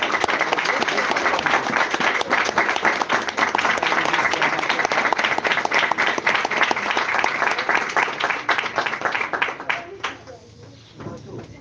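A congregation at a religious gathering claps in a dense, sustained burst of applause mixed with voices. It stays loud and continuous, then thins out and fades near the end.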